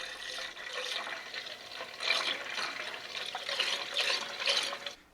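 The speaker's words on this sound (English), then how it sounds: "Shift the funnel over to the new tank and you can begin to top it up." Coolant mixture pours through a funnel into a new plastic coolant tank on a Mercedes R129 300SL, a steady close gurgling trickle that swells and fades in waves before cutting off at the end.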